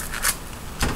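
A knife slices the top off a white onion, giving two short, close rasping cuts about half a second apart, with no talking.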